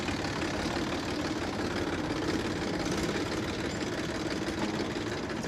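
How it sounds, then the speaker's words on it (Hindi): A tractor engine runs steadily on a village road past sugarcane and mustard fields, giving a continuous mid-pitched drone with a faint rattle that stays even throughout. "ये है ट्रैक्टर।"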